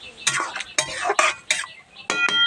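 A spoon stirs chicken curry with chicken masala in a pot, producing five or six short, close scraping and clinking bursts against the metal, separated by brief pauses.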